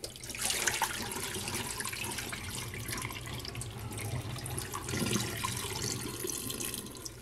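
Running water from a tap rinsing crushed coral held in a strainer, a steady close splashing and pouring that continues throughout.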